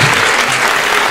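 An assembly audience breaks into a short, loud burst of applause before a poem about mothers is recited, with dense clapping filling the brief moment.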